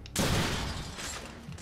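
Gunfire in the Deadpool video game, a sudden loud burst of shots that erupts at once and rolls on as a sustained, booming volley before easing slightly near the end.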